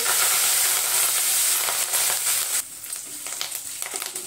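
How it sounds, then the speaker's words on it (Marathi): Curry leaves and a pinch of asafoetida fry in hot oil, sending up a loud, steady sizzle that crackles and sputters, then thins to scattered pops toward the end. "इथे आपण कढीपत्त्याची 10 ते 12 पानं टाकून घेतलेली आहे।"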